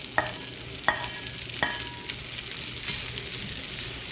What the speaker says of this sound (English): Put these mushrooms in here and let them get cooked up.